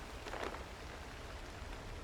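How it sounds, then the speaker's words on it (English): Rain falling in the video game Cairn, a soft, steady hiss of rainfall with a brief brighter patter early on, quiet and uninterrupted by voices. "And it's raining."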